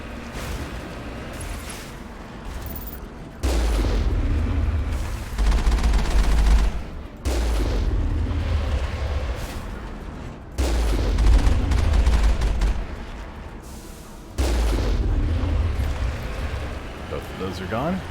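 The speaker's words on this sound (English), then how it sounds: "somebody's already blasting rockets" Rockets fired in a video game: heavy booming blasts come in loud, repeated bursts a few seconds apart, each rumbling for a couple of seconds, with a voice faintly underneath.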